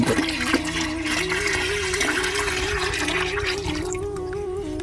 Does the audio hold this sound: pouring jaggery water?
yes